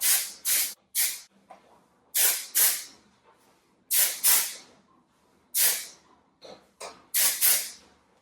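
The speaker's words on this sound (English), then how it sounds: "I like to apply dry shampoo kind of farther away than you would think and in really short spurts" An aerosol can of dry shampoo hisses in short, sharp spurts, about a dozen quick bursts in uneven pairs, close and crisp with brief silences between.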